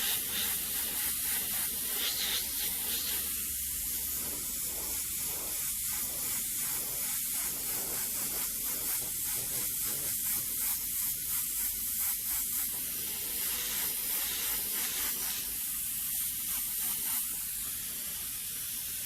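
An airbrush sprays paint in a long, steady hiss, laying down skull and flame artwork, with short rhythmic pulses and brief gaps as strokes are made.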